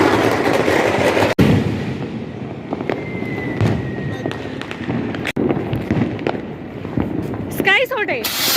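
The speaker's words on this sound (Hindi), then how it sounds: "स्काई शॉट है" Sharp sky shot firework blasts crack out a few times amid Diwali crowd noise and nearby Hindi talking in Dehradun, with a rising whistle near the end.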